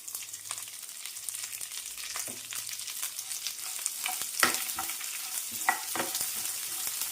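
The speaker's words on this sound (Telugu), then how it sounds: "దీంతో పాటు కొద్దిగా కరివేపాకు వేసుకోండి ఇవన్నీ కొంచెం వేగనిద్దాం" Urad dal, chana dal, cumin, coriander seeds and curry leaves fry in hot oil, sizzling steadily and close with occasional stirring scrapes, and no talk over it.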